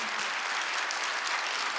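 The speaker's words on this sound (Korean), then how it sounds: "박수 주세요" Dense, steady applause from a church congregation during a Sunday worship service fills the space continuously, loud and sustained with no talking over it.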